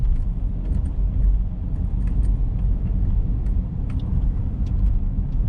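A car drives through the streets of Macau near the Cotai Strip casinos in 2021, heard from inside as a steady low engine and road rumble with faint small rattles and no talking.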